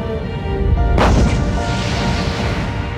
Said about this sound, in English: Using simple, natural explosions like this was the first step of mankind's journey to harness explosive power